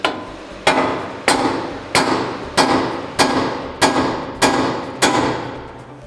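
Hammer strikes knocking loose the ball joint on a Toyota Tacoma front suspension: eight sharp metallic blows in a steady rhythm, close and loud, each ringing briefly before the next.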